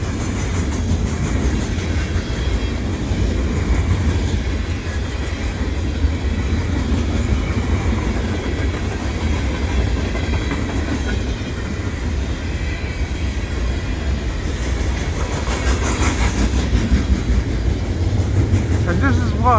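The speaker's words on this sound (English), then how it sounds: "So it looks like that other train is finished." Two CN freight trains run side by side on parallel tracks in winter at Dorval, one a unit grain train. A continuous heavy rumble of rolling wagons and wheel clatter carries on throughout, with occasional talk over it.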